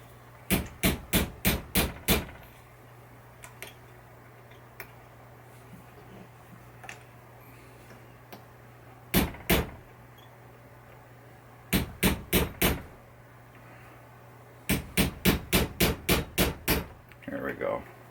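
A hammer taps a pin on a 1973 Williams Travel Time pinball flipper during a rebuild, in sharp metallic bursts of quick blows separated by pauses, close and loud over a low hum.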